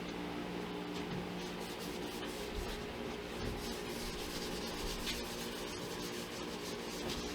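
Shellac sealer being rubbed onto a handmade guitar body with a rag, a steady soft scrubbing texture that continues throughout, close and moderately loud, with no talking.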